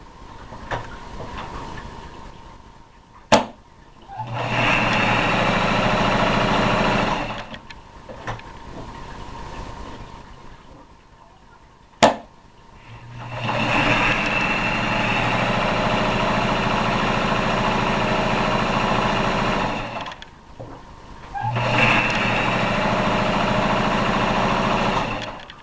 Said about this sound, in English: I'm almost finished sewing around the edge of the runner.